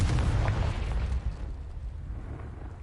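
A Confringo blasting spell explodes in the Hogwarts Legacy video game, with a loud rumbling boom up front that tails off into a low fading crackle over about three seconds.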